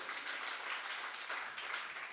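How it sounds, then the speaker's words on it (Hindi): An audience at a Jain monk's religious discourse breaks into applause for Anita Didi, a brief burst of steady, fairly soft clapping from many hands. "ताली बजा दो उनके लिए"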